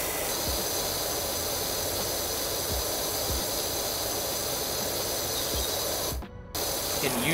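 Pressure washer jet in Power Wash Simulator, a steady loud hissing spray that runs continuously with brief dropouts and faint low thumps, cutting out for a moment near the end before resuming.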